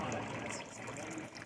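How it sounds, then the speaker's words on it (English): A backyard garden waterfall trickles and babbles in a soft, steady stream, heard close and alone for a brief moment. "that's another look at the waterfall here in the garden down here."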